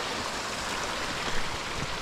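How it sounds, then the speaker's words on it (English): A river on a White Mountains trail near Galehead rushes with steady, full broadband water noise, close and continuous with no voices. "All the way back down here to the river."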